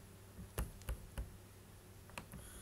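Pens clicking and tapping against a writing board during a lecture, a few sharp, isolated knocks spread irregularly over quiet background hiss.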